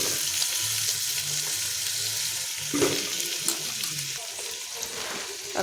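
Ginger paste, curry leaves, green chillies and onion sizzling in tempering oil, a continuous close crackling hiss with occasional stirring sounds and a faint low hum underneath.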